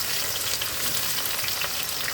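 Finely chopped onion frying in hot oil over tempered spices, a dense, steady crackling sizzle up close that runs uninterrupted with no speech.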